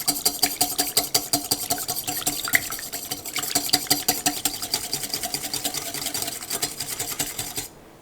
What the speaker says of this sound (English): we're going to whisk this until it's nice and frothy